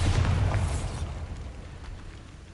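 A Bombarda spell explosion from a Harry Potter-style video game: a loud booming burst right at the start with a rumbling low-end tail that slowly fades over a couple of seconds, with no voices.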